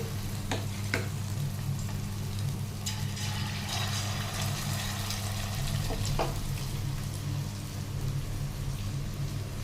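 Chicken pakora frying in hot oil, a steady crackling sizzle with occasional louder pops throughout, close up and without talk.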